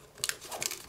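Paper folded for an origami ping pong racket, a few soft, close crinkles and creases in a quick cluster.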